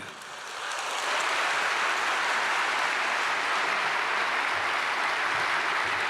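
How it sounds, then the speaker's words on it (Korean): A church congregation at a Korean thanksgiving worship service claps to welcome a pastor to the podium, a broad, even wash of applause that swells in the first second and then holds steady, somewhat distant. "목사님이 나오셔서 여러분 개회사를 해주실 때 큰 박수로 환영해 주시기 바랍니다"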